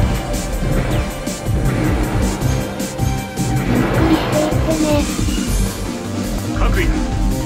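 A mobile suit launching in the Gundam Online game on the Belfast map, heard as a steady, loud engine-like roar and rush that sweeps over several seconds, with a voice speaking over it.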